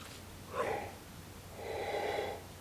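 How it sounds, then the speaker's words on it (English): A quiet, breathy yawn with two drawn-out exhalations, the second longer and more sustained. "yawn came out of nowhere"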